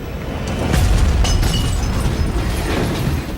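A deep cannon boom rolls out with a rumbling blast and scattered crackling debris, loud and heavy, fading into a low roar.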